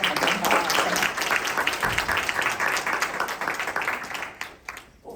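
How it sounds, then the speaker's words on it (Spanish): An audience claps loudly and continuously, the applause thinning and fading out toward the end. "Un aplauso"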